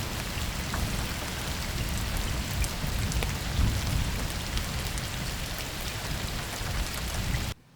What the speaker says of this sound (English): and we get rain.